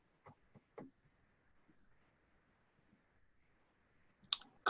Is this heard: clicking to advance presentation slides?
yes